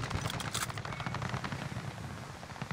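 Gunfire, including sniper shots, rattles in quick, dense bursts during a Call of Duty Warzone match on Caldera. The shots sound quiet and distant throughout.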